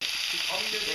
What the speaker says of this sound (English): They put the oil in the pan and they're now frying the chicken.